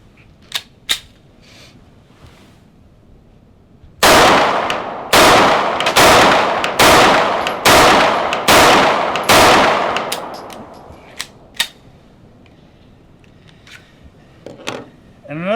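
A Boberg XR9S 9mm bullpup pistol fires 115 grain Winchester white box ammunition outdoors, about eight sharp, loud shots in a steady string a second or so apart, with a few fainter distant pops before and after.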